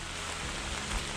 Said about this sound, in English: it's full on rain right now